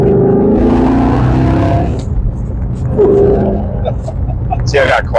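Exhaust of a Roush Stage 3 Ford Mustang, a loud rumbling roar that drops to a quieter burble partway through as the valves switch, with people talking over it.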